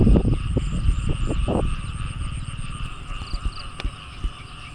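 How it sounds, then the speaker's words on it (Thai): Several frogs croak in quick low pulses near the start by flooded rice fields, fading into a steady night chorus of insects and distant rumble. "เสียงกบเสียงเขียด"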